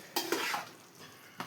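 Chicken for a Tamil-style chicken biryani is stirred in a pot, giving a few quick spoon scrapes over a soft sizzle, with another brief clink near the end.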